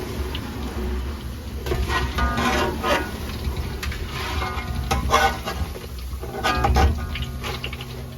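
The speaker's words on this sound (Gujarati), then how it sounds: "આપણા ગાંઠિયા બની ગયા છે તેલમાં નાખી દીધા" Ganthiya, a Gujarati gram-flour snack, frying in hot oil, with a steady crackling sizzle broken by scattered ticks and clinks of a utensil, heard up close with no talking.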